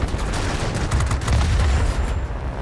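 Rapid, loud aircraft gunfire in World of Warplanes 2.0 during a dogfight, a continuous rattling burst of shots with heavy low rumble lasting the whole stretch.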